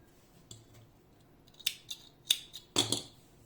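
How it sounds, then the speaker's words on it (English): Scissors snip through dark blue yarn in a few close, crisp cuts, the last ones a quick double snip, in an otherwise quiet room. "Now I am cutting the dark blue yarn."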